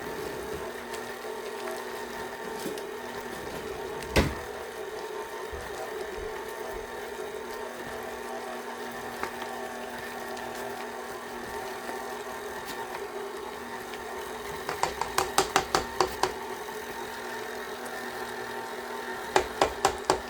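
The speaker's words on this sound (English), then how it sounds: "It's going to break it, the KitchenAid's going to break it all down." A KitchenAid stand mixer shreds cooked meat for green chili enchiladas, giving a steady mid-level motor drone that runs throughout, with a few sharp clicks and short bursts of knocking near the end.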